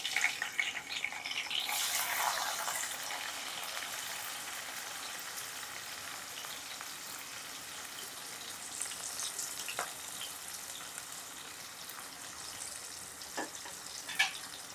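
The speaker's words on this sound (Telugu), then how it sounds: "ఇంకా వేగుతున్నాయి కదా" Onions and green chillies fry with fenugreek seeds in a pan, giving a steady, soft sizzle that is louder at first and then settles. A few light clicks break through later.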